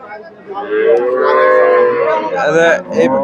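A Friesian dairy cow at Chandaikona cattle market in Bangladesh lets out one loud, long, drawn-out moo that wavers near the end, close by.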